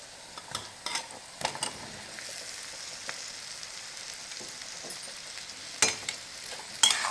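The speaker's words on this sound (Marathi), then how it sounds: "आता आपले बटाटे टाकूया" Potatoes go into hot oil spiced with turmeric and chili and are stirred, giving a quiet, continuous sizzle broken by several scraping stirs and light utensil clinks, with no talking.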